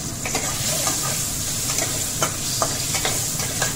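Chopped tomato and okra fry in a pan with a steady, close sizzle, broken by scraping stirs of a spoon at irregular moments, no voices present.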